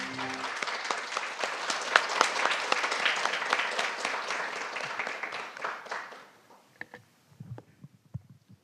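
Audience applause welcomes a lecturer onto the stage at an indoor talk, brisk clapping for about six seconds that thins to a few scattered claps and fades out.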